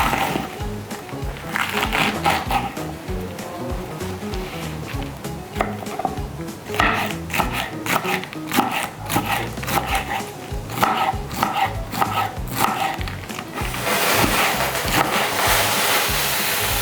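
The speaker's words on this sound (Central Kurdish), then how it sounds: "دەستەکەم بە وردکردنی خاسەکەم" Lettuce being chopped with a knife for a salad in a home kitchen, a steady run of close, crisp cuts on a board with clattering kitchen noise, louder toward the end.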